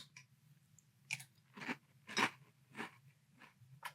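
Someone chews a spoonful of novelty Olive Garden soup, salad and breadsticks flavored cereal in milk, giving several soft, close crunches spaced about half a second apart over a faint low hum.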